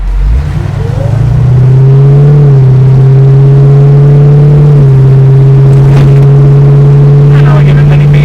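A 1971 Dodge Challenger V8 accelerating hard from inside the cabin: a loud, steady engine roar climbing in pitch, easing briefly, then holding a strong drone, with faint talk underneath.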